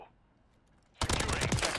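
Rival 9 SMG fire in MW3 multiplayer starts abruptly after a near-silent second, a fast, loud, continuous rattle of shots up close.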